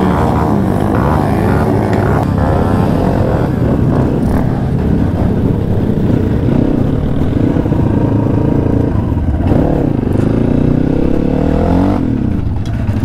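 Motorcycle engine in the cold at Bromo's sand sea, a loud, close, continuous rumble with slight surges that runs throughout.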